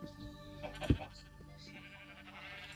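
A single short sheep bleat from Minecraft, faint and somewhat distant, rising briefly out of a quiet background of game music and faint ambience.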